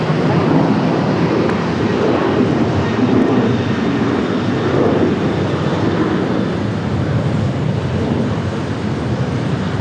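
An airliner departs Raleigh Durham airport, its engines a loud, continuous broadband roar that holds steady throughout with no talk over it.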